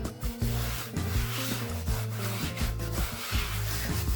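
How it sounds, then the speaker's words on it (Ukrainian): A wooden board is dusted with flour for shaping dumplings, giving a close, steady rubbing and brushing across the wood surface with short repeated strokes, heard alone. "Візьму трошечки доску, припудрю мукою."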